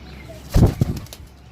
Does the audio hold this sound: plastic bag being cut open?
no